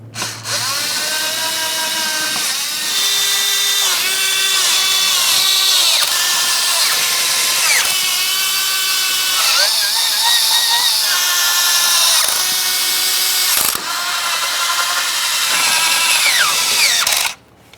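A power tool snugs the 13 valve cover mounting bolts on a 2.3L four-cylinder 1998-2011 Ford Ranger in a steady series of loud, whining bursts. The pitch rises and falls with each bolt, with brief pauses in between.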